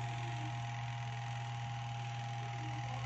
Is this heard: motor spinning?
yes